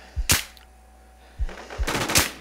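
Gunfire in a survival shooter video game cracks close and sharp: one burst of a few shots, a pause, then a quick cluster of several more shots.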